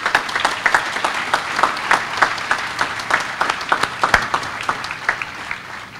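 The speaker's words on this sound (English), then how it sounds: "Ladies and gentlemen, please join me in a round of applause for Ms." Loud audience applause at an Army change of command ceremony, with sharp individual claps standing out in a strong rhythmic pattern over a continuous bed of clapping that eases slightly toward the end.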